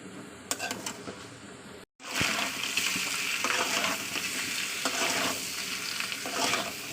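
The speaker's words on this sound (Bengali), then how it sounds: "আমি এগুলোকে ওই তেলের সঙ্গে ভালো করে কষিয়ে নেব।" Beef frying in its own melting fat, with a steady sizzle and intermittent scraping stirs in the pan, close and moderately loud, no talk.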